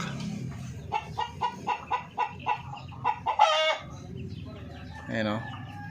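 A hen and other chickens cluck in a breeder flock, with a regular series of evenly spaced clucks followed by a louder squawk and a rising call near the end, close and moderately loud.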